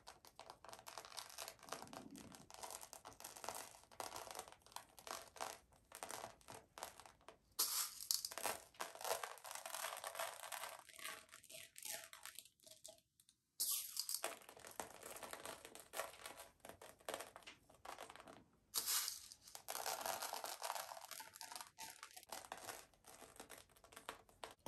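Clear crushed filler glass being handled for a glitter canvas craft, a long run of dense crinkly, gritty rustling and clicking that goes on and off with brief quiet pauses, no talk heard.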